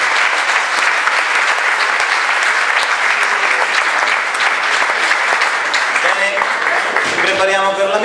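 Loud, dense applause from a large audience at a Capuchin friars' missionary conference in Recanati, sustained and close throughout, with a voice starting to speak over it near the end.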